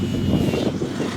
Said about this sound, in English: Got some wind coming through now.